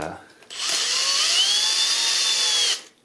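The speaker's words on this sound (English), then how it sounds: "So I'm going to screw these screws all the way in." A power drill drives screws into an electrical outlet, one loud continuous whir of about two seconds, close up, rising slightly in pitch and then stopping abruptly.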